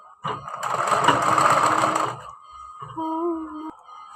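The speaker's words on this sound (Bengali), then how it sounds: "মেশিনে এইভাবে সেলাই করে নেব" A sewing machine runs in two bursts, stitching a blouse front piece with a half-inch seam margin: a steady rapid whir for about two seconds, a pause, then a shorter run with a rising whine.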